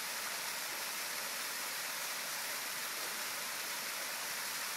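The Red Waterfall, its rocks stained rust red by acid drainage from a coal mine, gives a steady broadband rush of falling water, constant and unbroken, with no voices.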